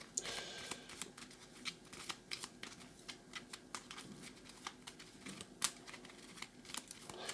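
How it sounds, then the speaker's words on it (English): Paper playing cards from a print-and-play solitaire war game being shuffled by hand, a steady run of light riffling snaps and flicks close by, with no one talking. "But we've got to shuffle these again."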